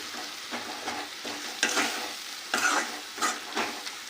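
Tomatoes softening in a hot pan for an egg curry, a quiet steady sizzle with soft repeated stirring scrapes of a spoon, close up and without talk.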